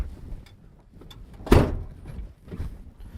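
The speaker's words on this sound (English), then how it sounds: "Close the door." Cab door of a Komatsu HM300 articulated haul truck swung shut, one solid thunk midway through, heard close inside the cab over a low engine rumble.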